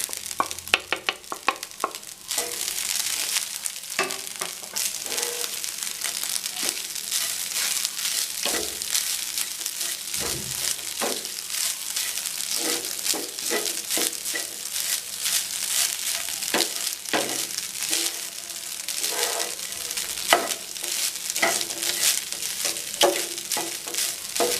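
Cooked rice is stirred into a coconut mixture in a hot pan for thengai sadam, giving a steady sizzle broken by repeated scraping and tossing strokes, loud and close throughout.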